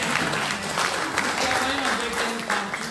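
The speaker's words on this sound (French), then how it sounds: "Applaudissons pour Louange, s'il vous plaît." Church audience applauding a young woman named Louange at an honorary titles ceremony for women servants, a steady dense round of clapping that runs the full length, with a voice talking over it.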